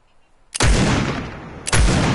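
Two heavy gunshot blasts ring out in a video game, each sharp onset followed by a long roaring decay, spaced about a second apart.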